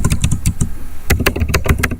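Fingers typing an SQL query on a computer keyboard, a close, crisp patter of key clicks in quick bursts with a brief pause in the middle.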